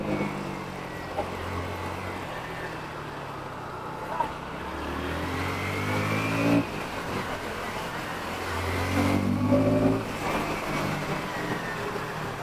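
A KTM Duke 160 motorcycle ridden through city streets in second gear, its engine droning steadily with rising and falling pitch as it accelerates, close and continuous, with no talking.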